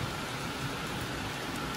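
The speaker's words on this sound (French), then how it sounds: "Bon allez, c'est fini la pluie" Steady rain drums on a moving car on the way to the Nürburgring, a dense, even hiss that fills the whole clip with no voices.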